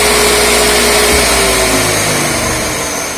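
A Robot Coupe Blixer 60-quart commercial mixer-blender runs steadily at speed 2, giving a loud, continuous jet-like motor roar with a faint whine that eases slightly toward the end.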